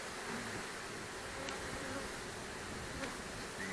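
Honey bees hum inside an open hive as a faint, steady drone, with a couple of soft clicks and no voices over it.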